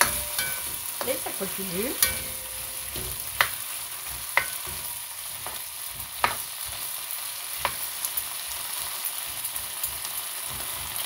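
Shrimp frying and being flambéed with whisky in a pan: a steady broad sizzle with sharp spoon clicks against the pan every second or so, and a short spoken remark early on.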